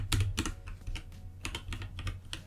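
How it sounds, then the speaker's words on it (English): Rapid, irregular keystrokes on a computer keyboard while text is entered in Figma, close and distinct clicks with no talking. "I just keep on typing and it wraps it."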